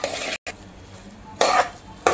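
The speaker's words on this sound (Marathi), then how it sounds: "कोथिंबीर टाकून झाल्यावर आपण छान ढवळून घेतलेलं आहे" A jackfruit and dried shrimp vegetable dish with coriander is stirred in a pan, giving a soft continuous scraping with two sharper bursts of spoon-on-pan clatter near the end.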